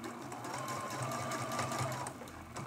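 A sewing machine stitches steadily, quilting a small circle around a cameo on a fabric mug rug, a soft continuous mechanical whir close by that runs for a couple of seconds before stopping.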